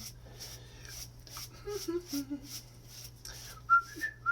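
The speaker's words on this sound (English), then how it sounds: "I like to whistle too and hum." Soft, short whistled notes come in a loose, wandering tune over a low steady hum, with a few quiet knocks and rustles nearby.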